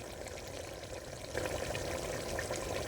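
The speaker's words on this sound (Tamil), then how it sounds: "அதனால் இப்போ தண்ணி கொஞ்சம் ஊற்றிக்கலாங்க" Water pours steadily into a pot with a soft splashing rush that grows a little louder partway through.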